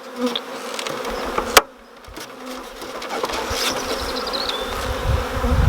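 Honeybees hum in an open colony, a dense close buzz of many insects with individual bees whining past, plus a brief clack from handling frames.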